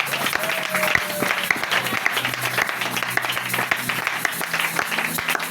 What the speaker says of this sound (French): Est-ce que tu peux acclamer très fort pour le monde?